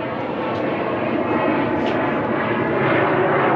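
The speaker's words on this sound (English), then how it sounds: "loud jet." A loud jet aircraft roars steadily overhead throughout, a broad continuous rumble that swells slightly partway through, heard alone near a 2021 Jeep Compass windshield replacement job.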